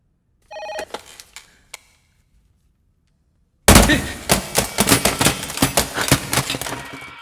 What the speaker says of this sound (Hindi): दिल्ली से फोन आया।